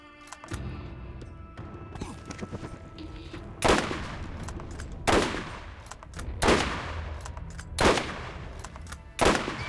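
Gunfire in Borderlands, a continuous rattle of rapid shots broken by several heavier blasts at regular intervals, loud and close with no talk over it.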